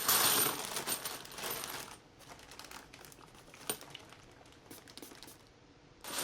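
Brass .308 Winchester rifle cases shaken inside a bag with isopropanol alcohol, giving a loud burst of metallic rattling and clinking that settles into scattered lighter clinks and crinkles of the bag, then a final rattle.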